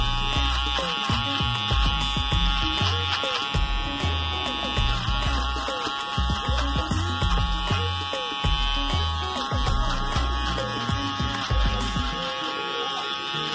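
An Office Shaver Mega electric shaver runs with a steady, loud buzzing drone that stays constant and close throughout, with no speech over it.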